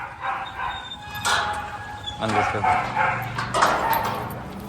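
A Labrador barks and yips a few times at moderate distance while people talk nearby, with a whining tone between barks.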